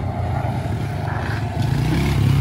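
A pit bike engine drones steadily and loudly, its pitch climbing as it revs harder toward the end.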